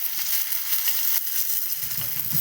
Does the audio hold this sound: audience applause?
no